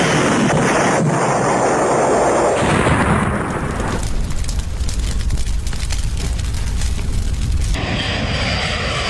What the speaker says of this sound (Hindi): जोरदार धमाका होता है